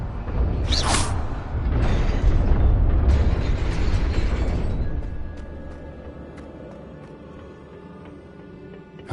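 A fire spell in Hogwarts Legacy strikes a rune with a loud burst, then a roaring, crackling whoosh that holds for a few seconds before fading into a low rumble and quiet ambience.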